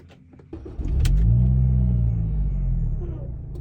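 A 2005 Mini Cooper S (R53) engine rumbles up and settles into a steady, close drone with a low, throaty tone as the car pulls away and cruises.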